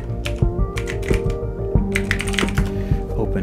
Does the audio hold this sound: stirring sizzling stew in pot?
no